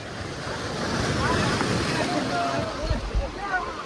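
Sea waves wash over rocks at Old Digha beach, a steady broadband surf with heavy wind rumble on the microphone and a few stronger low surges near the end.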